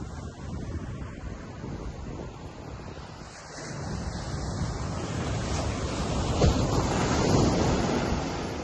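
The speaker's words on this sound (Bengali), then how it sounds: "দারুণ ঢেউ।" Sea waves wash onto the beach at Cox's Bazar in a steady, broad roar that swells louder toward the end, mixed with gusty wind buffeting the microphone and no voices.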